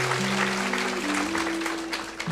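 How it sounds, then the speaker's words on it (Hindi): Seated listeners at a Hindu spiritual discourse clap steadily for a question, a dense, even wash of applause over held low instrumental drone tones. "सवाल के लिए तालियां बजाइए"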